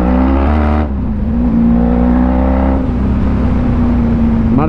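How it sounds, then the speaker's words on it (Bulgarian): A motorcycle engine revs and accelerates hard up close, its droning pitch climbing steadily with a brief dip partway through, loud and sustained throughout. "Мале, този мотор как се засилва"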